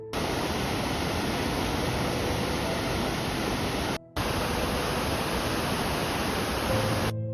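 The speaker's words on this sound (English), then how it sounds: "Now you can imagine the sound of water falling through that check dam." Water pouring over a 30-meter-high check dam gives a loud, continuous broadband roar, steady and close, with a brief dropout partway through and no voices.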